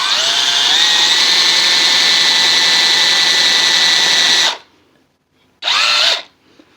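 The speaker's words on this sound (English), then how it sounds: "That is for precise drilling." A power drill bores into a wooden chair leg for a leg dowel, a loud steady whine for several seconds, a pause, then a second short burst.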